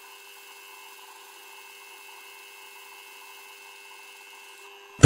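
A metal lathe turns the outside diameter of a threaded nut held on a rod, giving a steady, fairly quiet tonal machine whine with no talk, ending in a sudden loud clunk.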